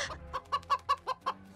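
A rooster clucks in six quick, evenly spaced bursts, close and clear with nothing else over it.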